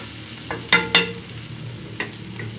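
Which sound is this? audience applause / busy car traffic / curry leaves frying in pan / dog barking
curry leaves frying in pan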